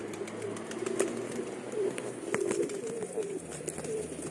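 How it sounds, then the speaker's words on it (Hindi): Pigeons coo softly and repeatedly at a moderate distance over a faint hum, with occasional light taps and flutters. "इतना बदमाश हो गया सब कबूतर"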